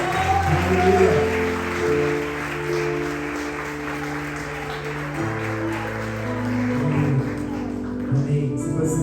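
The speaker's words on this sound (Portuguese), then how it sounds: "E mais uma vez, as palmas engrandecem ao Rei dos Reis e Senhor dos Senhores." A church congregation claps together at a worship service, a steady sustained applause over sustained music, loud and close throughout.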